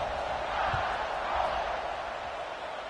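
A broad, steady roar of a large football stadium crowd awaiting the defense, continuous and distant, with no distinct cheers standing out.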